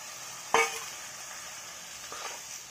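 Potatoes and masala roasting in oil in a pan for a bell pepper sabzi: a soft, steady sizzle with one sharp utensil clack near the start and a fainter stir a moment later.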